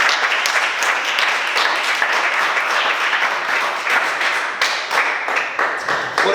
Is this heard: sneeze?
no